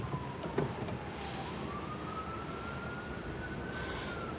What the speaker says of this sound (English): We go to sirens again, man.